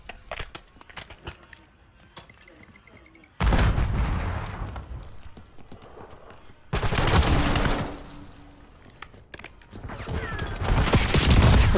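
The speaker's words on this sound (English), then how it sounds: "On the stairs. Throw a nade." Gunfire in Call of Duty: Black Ops 6 ranked play on PS5, with loud sustained automatic bursts and rattling fusillades, alternating with quieter stretches of scattered shots and mechanical clicks.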